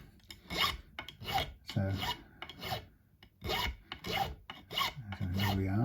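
Metal file rasping across the fret ends of a Stratocaster-style guitar during a re-fret, in repeated close back-and-forth strokes with brief gaps, steady and rough, with one short spoken word.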